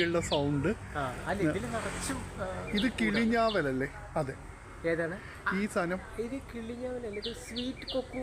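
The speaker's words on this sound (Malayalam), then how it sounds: "കണ്ടില്ലേ പക്ഷികളുടെ സൗണ്ട്?" Small birds chirp faintly in short, scattered bursts around a bird apple plant, almost buried under steady conversation between people nearby.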